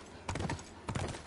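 Horse hooves clip-clop in The Last of Us Part II, with two short bursts of quick hoof beats on hard ground heard up close and no talk.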